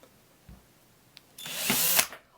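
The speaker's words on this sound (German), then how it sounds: "Da brauchen wir Bohrer." A power drill bores a hole into a piece of wood for a homemade log candle, starting with a few faint clicks and then a loud, bright whirring burst lasting under a second before spinning down; no talking.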